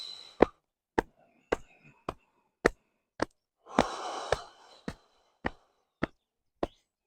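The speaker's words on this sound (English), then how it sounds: "Just keep breathing, tapping on the belly here," Rhythmic hand tapping and slapping on the belly during a qi movement practice, about a dozen sharp, evenly spaced slaps with a soft breathy exhale partway through, close and alone.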